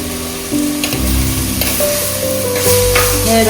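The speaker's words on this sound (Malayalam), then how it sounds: "നല്ല ആവി വന്ന് തുടങ്ങിയിട്ടുണ്ട്." Curry sizzles, bubbles and steams steadily in a clay pot close up, a constant frying hiss with tonal hums and occasional clinks.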